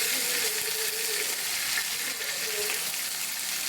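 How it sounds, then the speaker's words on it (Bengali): Garlic and ginger paste sizzling in hot oil in a pan, a moderate steady frying hiss over a short stretch with faint light clinks. "তেলের মধ্যে দিয়ে দিয়েছি 1 টেবিল চামচ রসুন বাটা"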